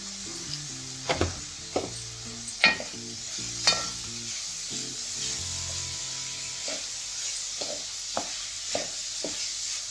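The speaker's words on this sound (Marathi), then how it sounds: "आणि चांगलं परतून घ्यायचं" Soaked chana dal stir-fried with onion, turmeric and salt in a pan, a soft sizzle beneath scattered sharp scrapes and taps of a spoon, quiet and close with no talking.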